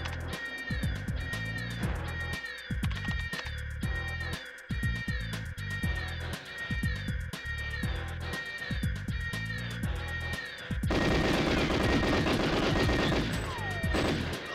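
Rapid game gunfire from GoldenEye 007 as enemies are shot down, near and loud, bursts of shots repeating through most of the stretch before a denser, continuous mechanical roar takes over near the end.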